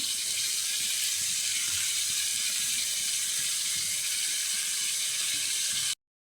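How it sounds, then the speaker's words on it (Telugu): Onions and green chillies frying in a pan for chamadumpala pulusu, a steady close hiss and sizzle running unbroken for about six seconds before cutting off abruptly, with no voices. "ఇవి గోల్డ్ కలర్లోకి వచ్చే వరకు వీటిని ఫ్రై చేసుకోవాలి"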